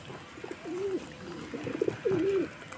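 Pigeons being hand fed coo softly nearby in a few drawn-out, wavering calls, quiet against a light background hiss.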